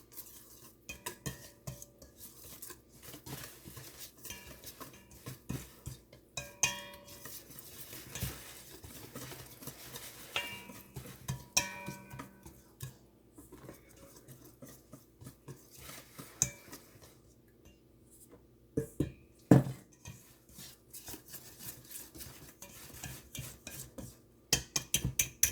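A spoon scrapes and clinks steadily through thick cinnamon roll dough in a bowl, with irregular close knocks and patters and a few louder clanks.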